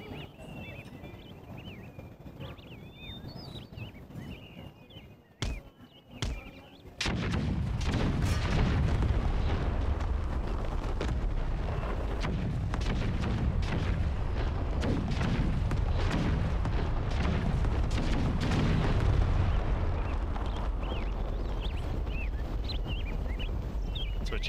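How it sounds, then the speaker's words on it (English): Cannon artillery fires in a large battle in Empire 2: Total War, dense overlapping booms and rumbling blasts forming a loud continuous barrage after a quieter opening with a few isolated shots. "Say these cannons are pretty effective."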